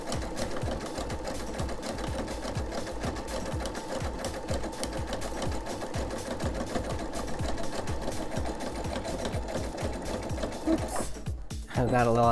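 A sewing machine runs a zigzag stitch along the rounded edge of an oven mitt, a fast, steady mechanical chatter of needle strokes lasting nearly the whole time, close and clear, pausing briefly near the end.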